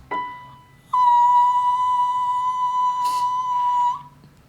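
A voice holds a piercing, very high whistle-register note, steady and pure for about three seconds after a short initial chirp, with a breathy burst near the end.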